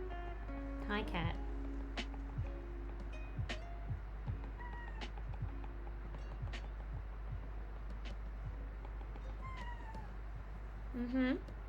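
A house cat meows a few times, short rising and falling calls scattered through a quiet room with a faint steady hum, while someone speaks nearby.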